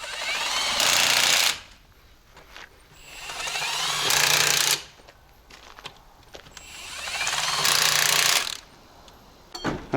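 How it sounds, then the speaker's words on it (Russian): Three long bursts from an impact wrench loosening the rear wheel nuts on a Volvo FH12 truck rattle loudly in a garage, each lasting about a second, with quieter clanks and handling noises in between. "Откручиваем сейчас задние колеса."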